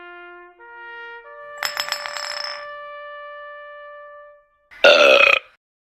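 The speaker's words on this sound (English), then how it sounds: "I haven't used that Barney burp sound effect in a while." A cartoonish Barney burp sound effect: a stepped electronic tone leads into a long, loud, rumbling belch, followed by a second short burp burst after a brief pause.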